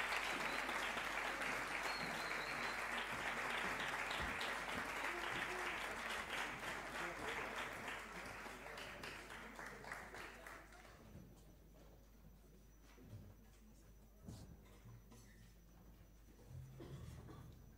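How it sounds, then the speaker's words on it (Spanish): Audience applauding a conservatory band at a concert hall performance, with dense, loud clapping that gradually thins and fades to scattered claps and faint murmuring by the end. "pido un fuerte aplauso para la banda del Conservatorio Profesional de Música de Catarroja"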